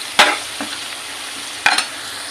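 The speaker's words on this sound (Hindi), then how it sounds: "देखिएगा टमाटर हमारा मैश हो रहा है अच्छे से" Tomatoes being mashed and stirred in a pan with turmeric, coriander and cumin powder for an aloo tamatar sabzi. Two short, close scraping bursts of stirring stand out over a soft, steady background, with no one talking.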